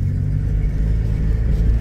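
A car drives straight after a steering wheel alignment, giving a steady low rumble of engine and road noise throughout, with no talking.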